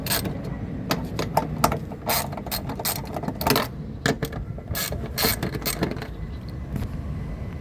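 A ratchet wrench loosening bolts behind the grille near the headlight of a 2015-2017 Nissan NV350 Caravan van, rapid close clicking bursts with short pauses between turns.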